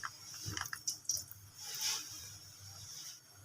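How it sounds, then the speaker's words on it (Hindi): Ghee goes into a pan, giving soft, faint wet squishes and small drips in a few brief bursts that stand out against a quiet background. "सबसे पहले हम इसमें डालेंगे घी।"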